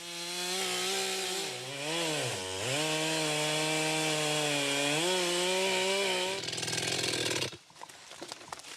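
A chainsaw engine drones loud and close as it fells a tree at a foreign legion training course, its pitch dipping and rising under load before it cuts out near the end.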